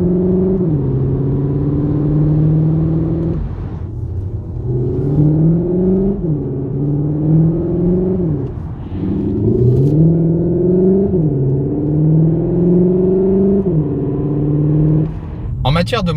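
A 2021 Cupra Leon hybrid's 150-horsepower engine revs and accelerates in repeated surges, the pitch climbing then dropping between gear changes, loud and close.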